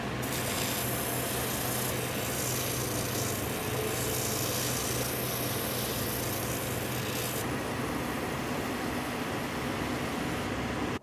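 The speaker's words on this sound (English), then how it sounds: "now we're taking it to the sander, and we're sanding it to get everything to shape" A continuous abrasive whir of a power sander grinding against a handwelted shell cordovan leather sandal sole, steady and loud throughout with a constant mechanical hum underneath.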